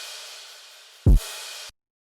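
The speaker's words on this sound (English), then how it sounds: "I pretty much on every single one of my tracks layer my kicks with a cymbal or a crash" A single punchy low trap kick drum layered with a crash cymbal lands with a bright crash-like wash of noise, then cuts off abruptly, following a steady hiss.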